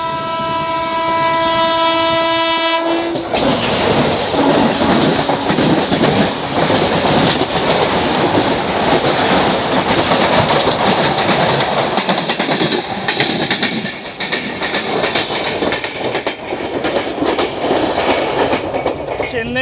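Koyna Express passenger train on the Mumbai to Kolhapur line, running steadily on rails with loud continuous rumble and clatter, a sustained horn sounding at the start.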